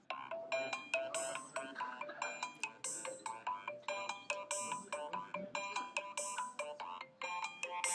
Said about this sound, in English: this is the first ringtone I've heard where there are multiple layers